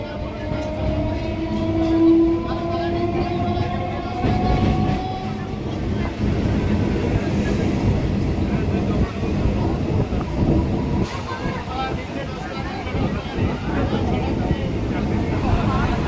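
A Goghat local train pulls into Rishra station with a loud, continuous rumble of wheels and carriages. A horn-like tone sounds early on, and voices are heard over the din.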